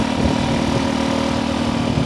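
A 1960s Honda 90 step-through motorcycle runs at a steady, loud engine drone while being ridden, a constant buzzing hum with no breaks, heard close and alone.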